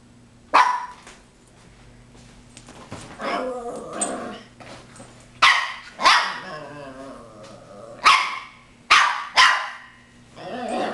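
Dog growling in low rumbles, then a run of sharp barks in separate bursts, with a second dog yipping nearby, all close and loud with no talk over it.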